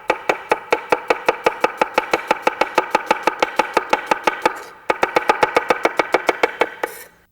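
A kitchen knife chops an onion on a cutting board in a fast, steady series of crisp, close knocks, about four per second, with one short pause midway and no talking.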